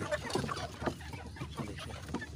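Misri hens on a village farm cluck in overlapping bursts, several birds close by, with a steady barnyard murmur underneath and no voices.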